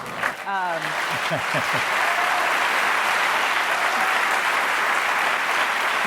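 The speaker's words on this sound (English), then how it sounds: "I know your applause is well meant" Sustained audience applause fills the room for a couple celebrating their 60th anniversary, opening with a brief voiced cheer and then settling into steady, dense clapping that carries loudly to the end.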